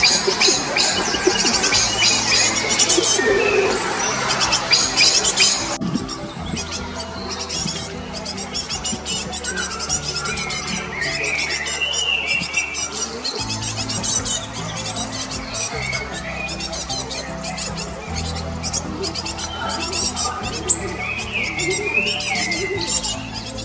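Great Tits call in woodland, short sharp calls and quick exchanges scattered over a steady outdoor background, moderately near, with no voices.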